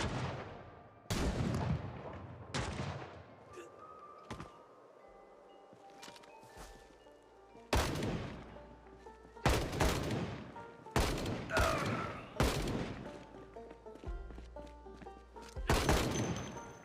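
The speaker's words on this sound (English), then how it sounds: "Don't shoot me through the fucking wall, you pieces of shit." Bandits firing guns in Project Zomboid, the shots shooting through a wall in a survival zombie game: sharp, loud gunshot bursts arrive in irregular volleys with short gaps, some close together like rapid fire, over a faint windy background.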